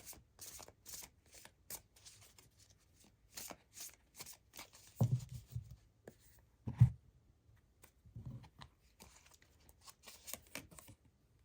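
Someone shuffles a deck of Radiant Sun Oracle cards at close range: repeated soft riffles and flicks in short bursts, with a few louder slaps and taps on a quiet background.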